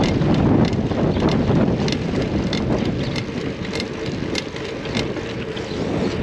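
Wind buffets the microphone in a loud, continuous rumble on a windy day's ride, with gusts rising and easing and brief crackles of handling noise, no talking.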